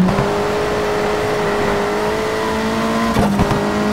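Ford RS200 rally car engine in Rush Rally 3 on an Argentina gravel stage, a steady loud drone holding pitch, then a brief burst of crackle or a shift near the end.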